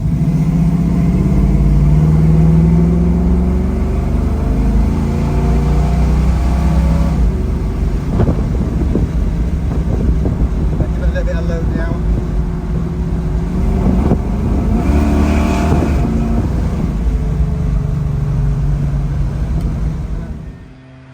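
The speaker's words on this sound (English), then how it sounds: "I'm going to have you take it for a test drive and see how it feels." A Chevy car with a newly changed distributor drives on a test run, its mid-pitched engine humming loudly and steadily up close and rising in revs midway before the sound cuts off at the end, with no talk.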